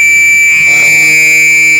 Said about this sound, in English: That was a fire alarm.